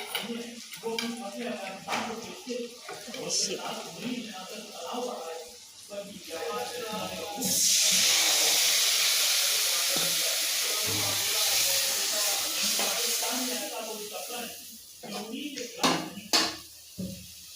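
Onion and tomato fry in oil with chilli, giving a loud hissing sizzle for several seconds with occasional clinks of a pan, and someone talks before and after.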